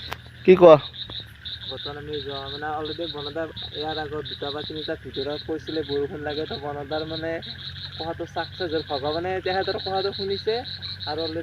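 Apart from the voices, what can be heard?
frogs croaking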